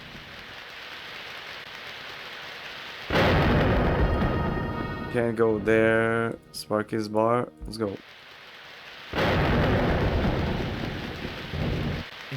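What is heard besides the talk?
pouring rain and thunder in DreamWeb DOS video game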